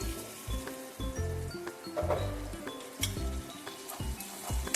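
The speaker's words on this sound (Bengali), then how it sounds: "মিনিট পর আমি ঢাকনাটা খুলে নিচ্ছি।" A lid lifted off a pan of jackfruit and onion cooking on low flame, with a metallic clink and scrape over a steady, close sizzle.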